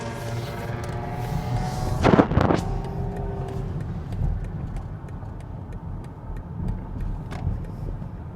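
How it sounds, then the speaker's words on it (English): Los Angeles city road traffic: a continuous low rumble of passing cars, with a loud, sharp burst of engine noise about two seconds in before it settles back into a steady hum. "A lot of traffic."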